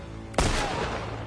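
A single loud gunshot from The Last of Us Part II rings out abruptly after a brief quiet, its blast decaying into a sustained echoing tail with no voices over it.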